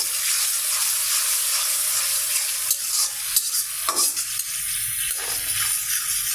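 A paste of ginger, garlic and cumin sautés in a pan, with a bright, constant sizzle broken by close scraping strokes of a stirring spoon and a few sharp clacks.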